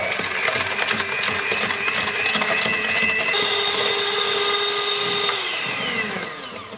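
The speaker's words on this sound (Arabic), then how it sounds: "من بعد ما خلطنا البيض والسكر" An electric mixer beating eggs and sugar for banana cake batter, a steady whirring drone that runs throughout and shifts pitch partway, with no talking.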